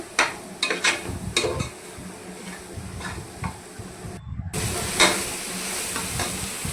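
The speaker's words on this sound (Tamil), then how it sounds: "நல்லா வதக்கிக்கலாம்." Spices with salt and garam masala sizzle in a hot pan for tomato rice while a spoon scrapes and stirs, a steady hiss under intermittent scraping, close and moderate.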